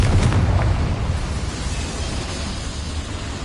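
Confringo explosive spell in Hogwarts Legacy, fired inside a mine: a loud, close blast at the start with quick popping bursts, trailing into a long rumbling decay of debris and ambience.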